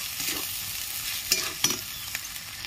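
Chopped tomato and a spoonful of ground coriander fry in a pan for a dhaba-style egg tarka, a brief soft sizzle broken by a couple of light utensil clinks.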